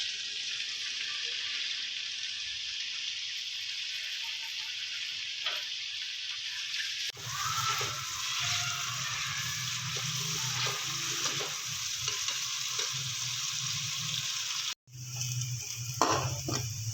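Onions frying in oil in a kadhai give a continuous loud sizzle that thickens and grows busier midway as they are added, with occasional stirring scrapes and no talk.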